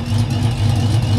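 A car engine idles after a cold start with the exhaust cutout closed, a steady, throaty low rumble, close and loud, holding an even pulse throughout.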